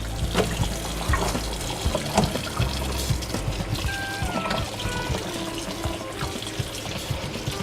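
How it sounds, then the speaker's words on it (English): Water from a tap runs and splashes unevenly over raw chicken pieces being washed by hand, with irregular gurgles and drips, close by. "You simply do that by just holding it under the water."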